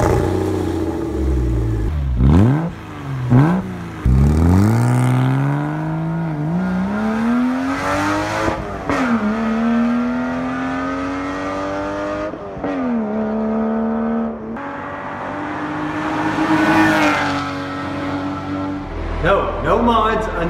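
A Porsche Boxster with a straight-pipe exhaust revs repeatedly, its engine pitch sweeping up and falling back in several loud pulls, close by, with someone talking briefly over it.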